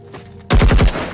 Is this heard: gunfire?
yes